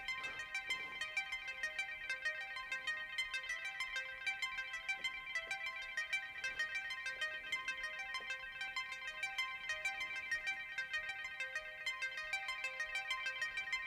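A MIDICAKE arpeggiator pattern plays a fast, bright repeating sequence of synth notes with a gap where one note is skipped each cycle, steady and fairly quiet throughout, without drums.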